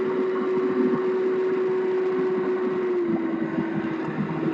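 A road tractor truck engine runs steadily while a first-time driver at Army CDL training works the gearbox, with a sustained drone and a slight pitch drop near the end.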